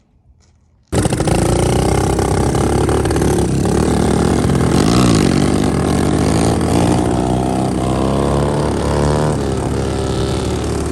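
A small Yamaha TC70 dirt bike engine cuts in abruptly after near silence, then holds a loud, buzzing wide-open-throttle drone with pitch wavering up and down as the little motor strains close by.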